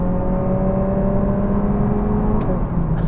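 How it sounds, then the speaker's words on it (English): Cabin sound of a 2025 Lexus UX 300h hybrid driven in sport mode, a steady engine hum with a piped-in synthetic tone, close and continuous, ending with a brief click. "If I'm in sport mode or sport plus mode, you have more sound coming in."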